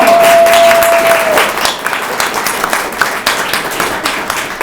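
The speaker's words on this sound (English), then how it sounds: "So let's have a round of applause for our fantastic panel." A crowd applauds a panel steadily at a talk on running for local office, dense clapping that gradually thins and softens toward the end.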